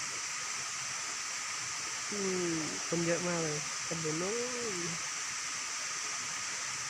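Mae Ramoeng waterfall, running low in the hot season, gives a steady, faint broadband rush throughout, while someone speaks briefly over it partway through.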